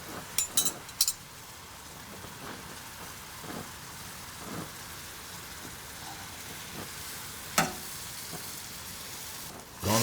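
Crêpes folded in a single layer sizzle softly in a pan as they caramelize, a steady low frying hiss with a few sharp clinks and scrapes of utensils near the start and end.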